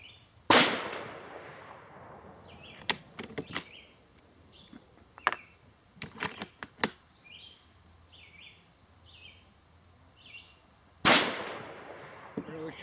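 Shots from a new Mauser rifle at an outdoor range, two loud, sharp cracks about ten seconds apart with clanks and handling clicks between them, and birds chirping in the background.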